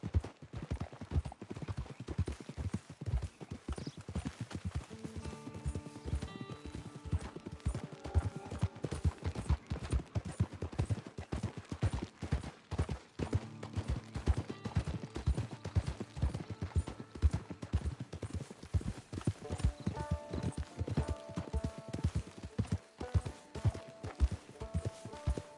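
Horse hooves clip-clop at a steady walking pace in a PS4 video game, with even, close hoofbeats running continuously over soft background music.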